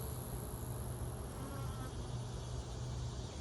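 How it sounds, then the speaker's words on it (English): Bees buzz around a hive in an apiary, a dense, continuous drone of many insects close by, steady and fairly faint with no one speaking. "They got a lot of bees here on the outside now."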